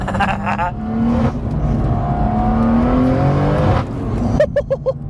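An 800 bhp turbocharged BMW M240i accelerates hard on a twisty road, its engine note rising in a loud, sustained interior roar, then dropping off, with crackles and a brief voice near the end.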